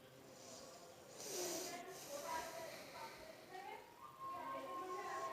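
Potatoes, both sweet and ordinary round ones, drop into hot mustard oil with dried chilli, bay leaf and five-spice, setting off a broad hissing sizzle that swells and holds, close, with a voice speaking over it.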